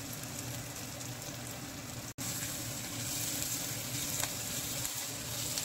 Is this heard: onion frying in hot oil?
yes